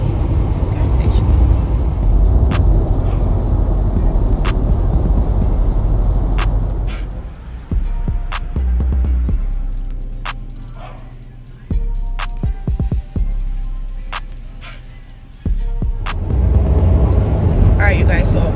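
A car drives along a road in Georgia with a steady cabin engine and road rumble throughout, a few clicks and knocks along the way, and someone talking over it.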